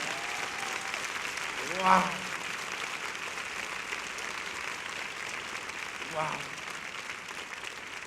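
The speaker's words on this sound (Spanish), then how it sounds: "si va a aplaudir, déselo fuerte al Señor" A church congregation claps at a Spanish-language Reforma service, a continuous even patter of applause running the whole time while voices call out briefly over it.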